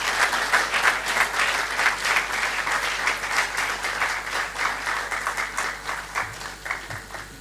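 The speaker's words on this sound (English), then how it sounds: "I expect Boy Knights especially to put their hands together for the Vice Chancellor, Professor Jonathan Oyebamiji Babalola." Audience applause for a university Vice Chancellor at an inaugural lecture, a loud, sustained burst of many hands with a slightly pulsing, rhythmic texture over several seconds.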